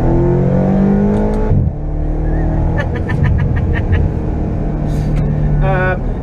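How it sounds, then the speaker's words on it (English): A BMW X5M engine in second gear pulls at full throttle from a roll, a loud, sustained accelerating roar heard from inside the vehicle with rising engine tones. "Let's go down to second gear. And I'm just going to floor it and see if I can tell."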